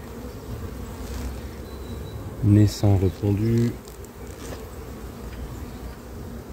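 A low, steady buzz of many honey bees in a hive fills the background while a person speaks briefly in French over it.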